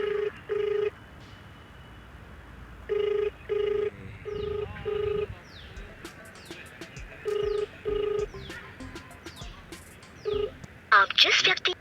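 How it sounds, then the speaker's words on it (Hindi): A phone call to a minister is dialed and rings: a series of evenly spaced ringback tones interrupted by keypad-like beeps and chirps, loud and close, with a burst of speech-like noise near the end. "तो मंत्री महोदय को हम फ़ोन मिला रहे हैं, सतीश चंद्र द्विवेदी जी को से बात करने की"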